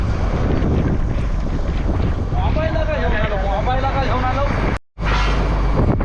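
Strong wind buffets the microphone in a constant roar on a fishing boat at sea during a Dahi Handi festival, with a voice talking through it and a brief dropout near the end.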